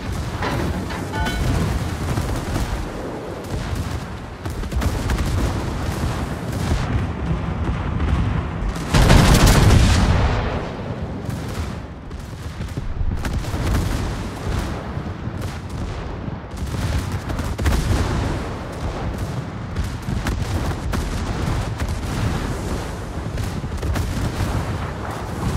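Naval guns firing during a 3 vs 3 video game sea battle, with dense booming salvos and rumbling blasts that build into one very loud burst partway through, with no voices over them.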